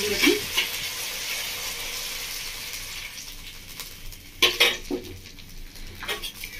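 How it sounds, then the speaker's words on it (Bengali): A spice paste is stir-fried in a pan with a bright sizzle as a utensil scrapes and clinks against the metal in a few loud bursts, and the frying carries on without any voices. "মশলা দিয়ে একটু ভালো করে কষিয়ে নেব।"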